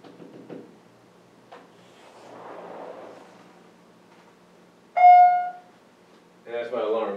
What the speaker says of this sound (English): that's my alarm, so I'm sorry about that.